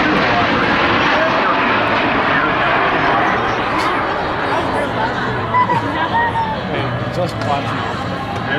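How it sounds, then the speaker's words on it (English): A C-17 military transport aircraft passes at an airshow with a loud, steady engine roar that swells and fades slowly, under a crowd murmur and an announcer's voice over a loudspeaker. "the C-17 is now approaching from your right"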